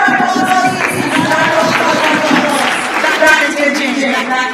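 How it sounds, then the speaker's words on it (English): Dense, continuous applause and crowd noise from an audience fill the space, loud and sustained with a steady wash of many hands clapping, while voices and music blend in underneath. "Round of applause, please."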